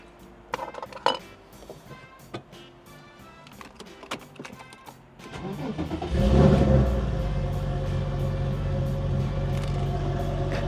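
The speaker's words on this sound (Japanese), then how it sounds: "先にエンジンだけかけておきますね" A few clicks and clunks, then an air-cooled Porsche engine cranks and catches, settling into a loud, steady, rumbling idle that carries on to the end.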